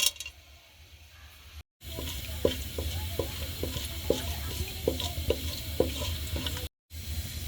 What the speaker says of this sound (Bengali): এবার আমি গরম তেলে তেজপাতা, দারচিনি, এলাচ এবং লবঙ্গ ফোড়ন দিব।